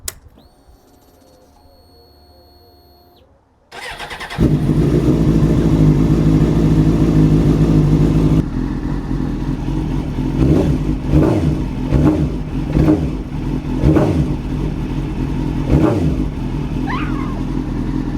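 After a quiet moment, a Suzuki GSX-R750 K2 motorcycle engine fires up and idles loudly, then revs repeatedly in sharp bursts up close, recorded near the exhaust.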